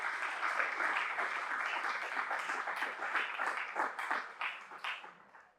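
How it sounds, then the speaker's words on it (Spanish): Congregation applause inside a church during an Easter Sunday sermon, steady dense clapping from a sizable crowd that holds for several seconds and then thins out toward the end. "Te doy un aplauso por esa promesa tan preciosa."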